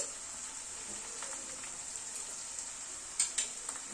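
Sliced onions fry gently in a pan over a medium gas flame, a soft continuous sizzle with faint crackles and a couple of brief stirring clicks, close and quiet.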